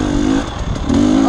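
Off-road race vehicle engine in an XC-3 cross-country class race at 111 Ranch, a close, loud throbbing drone that dips briefly mid-way after a downshift and then surges again.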